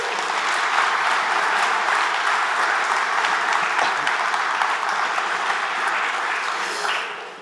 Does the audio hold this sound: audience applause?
yes